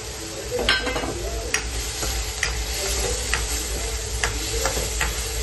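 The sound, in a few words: potatoes added to spices frying in a pan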